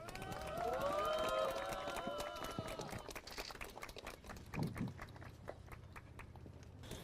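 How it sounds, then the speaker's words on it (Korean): At an outdoor political rally, a crowd applauds three lawmakers who have just shaved their heads to demand the president's early removal. Scattered clapping runs throughout, with voices heard near the start. "큰 박수로 격려해 주시면 감사드리겠습니다"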